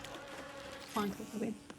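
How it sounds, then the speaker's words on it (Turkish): Flies buzz in the video game The Culling, a thin droning whine that wavers in and out, with a brief louder swell of buzzing partway through. "Ay sinekler uçuşuyordu orada dur."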